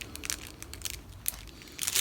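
Plastic bag around a Gucci Signature slip-on sneaker crinkles and crunches in quick, close bursts, growing louder and denser toward the end.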